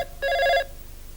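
A telephone bell rings once in a short, clear burst of about half a second, fairly close, with no talking over it.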